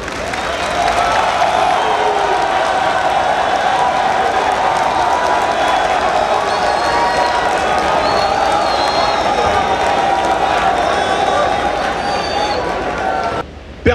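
A large crowd at a political youth rally cheers and applauds as a speaker is invited to the stage. The clapping and shouting form a loud, sustained roar, with voices mixed into the din, and it cuts off abruptly at the end.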